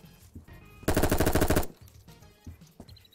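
Gunfire in the video game Apocalypse Rising 2 comes as one loud, rapid automatic burst lasting under a second, with quieter game sounds before and after.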